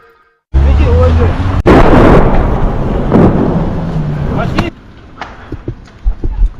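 Artillery shelling in Lysychansk, Ukraine, during the war: two loud, close blasts about a second apart, each followed by a heavy rumbling roar that slowly fades into scattered quieter thuds and noise.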